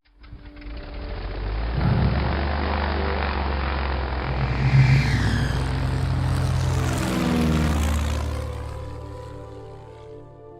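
Steady drone of a small propeller airplane in flight, a loud continuous engine hum with shifting pitch that swells and then fades slightly near the end, heard close from inside the cockpit with no talking.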